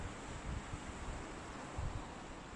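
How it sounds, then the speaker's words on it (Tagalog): Strong wind blowing outdoors around an old 1974 apartment building, a steady loud rushing roar buffeting the microphone with brief gusts, with no voices present. "Lakas ng hangin."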